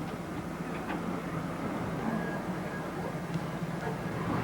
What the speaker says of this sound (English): I prefer to use the tram car.